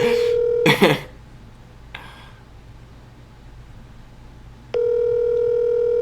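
A telephone dial tone plays, then gets cut off by a few quick dialing tones, followed by a pause and another long steady tone as the call is placed. The sounds are close and clear, with a little background hiss.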